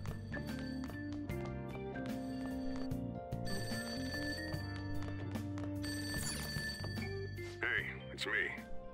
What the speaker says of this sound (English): That ring sound isn't coming from my cell phone.